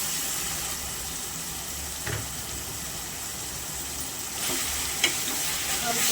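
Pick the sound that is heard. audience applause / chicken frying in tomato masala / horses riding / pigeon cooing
chicken frying in tomato masala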